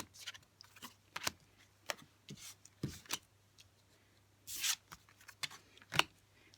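Tarot cards handled on a table for a reading, with soft intermittent shuffling, rubbing and slapping sounds, close and quiet, including one longer swish of cards near the middle, without talk.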